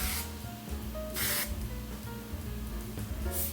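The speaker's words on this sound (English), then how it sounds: "This is like the oil sheen that you can spray on your hair all day long." Oil sheen hair spray from an aerosol can, released in a couple of short, loud hissing bursts with a pause between them over a low room hum.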